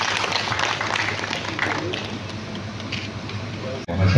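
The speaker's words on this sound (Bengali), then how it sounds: "আমরা সবাই মিলে একবার তার জন্য হাততালি দিই।" An audience at the BCDB Merit cum Means Awards 2025 ceremony claps for a student honoured for exam results, a steady crowd of applause that fades slightly before a voice cuts in at the end.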